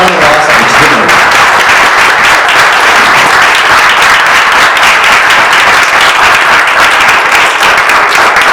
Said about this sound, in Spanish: un aplauso muy grande para nuestro querido Eduardo Rabasa